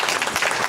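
Applause from a small audience at a New Mexico state legislative interim committee hearing on radioactive and hazardous materials, a dense steady patter of clapping hands throughout, fairly loud and close.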